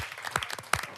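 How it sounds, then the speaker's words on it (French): Pastry contestants in a baking competition applaud themselves with a short patter of clapping, moderately quiet, with several sharp claps standing out. "Vous pouvez vous applaudir"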